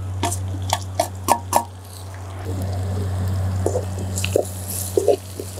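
Ginger, garlic, green chilli, tomato and curry leaves stirred together for a sand lobster dish, with wet squishy spoon clicks in irregular clusters over a steady low hum from a nearby burner or fan, and no talking.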